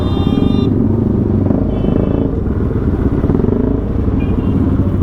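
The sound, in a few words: group of motorcycles riding past, Dominar 400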